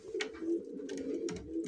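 Pigeons in a loft give low, steady cooing that runs throughout, with a few brief flutters or rustles breaking in near the birds.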